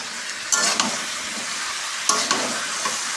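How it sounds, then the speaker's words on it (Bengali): Meat being sautéed (kosha) in a pan gives a loud, close, continuous hiss and crackle, with a few sharper scraping stirs standing out, and no talking. "এখন ভালো করে মাংসটা কষা দেবে।"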